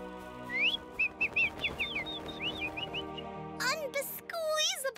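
Cartoon birds chirp in quick, high, twittering calls as they follow along to a feeder, a flurry of bright tweets that grows busier toward the end.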